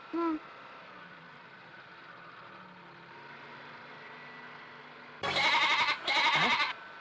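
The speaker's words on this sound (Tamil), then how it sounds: "என்னடா ஆடு கத்துற சத்தம் கேக்குது" A goat lets out a short cry at the start, then two loud, wavering bleats near the end over a quiet background hum.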